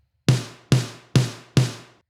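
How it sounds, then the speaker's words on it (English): Four evenly spaced snare drum hits, each a blend of the same sample processed dry and wet, with a sharp attack, a full low body and a bright, open top that decays quickly, played alone. "And I blend them together, and together they sound like this."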